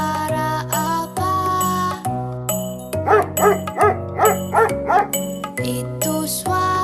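A cartoonish dog barks several times in a quick burst over a bouncy, jingly children's music backing, with bright chime tones throughout.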